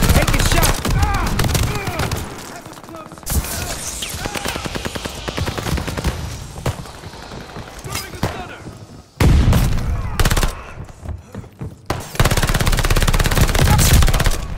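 PPSh submachine gun firing in Call of Duty: Vanguard, loud rapid bursts of automatic gunfire broken by short pauses, with in-game explosions and voices between the bursts.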